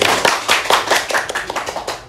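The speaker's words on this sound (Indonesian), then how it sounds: "tepuk tangan dulu buat Putri." Applause from a small group, a quick burst of brisk hand claps, close and lively, fading slightly as it ends.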